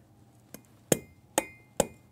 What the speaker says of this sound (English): So I thought I'd maybe try to hammer it out a little bit.